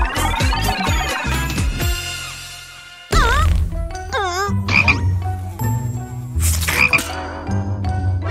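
A cartoon frog croaks in a children's English lesson, the call mixed with bright sound effects and musical tones that come in several loud bursts, with no talking.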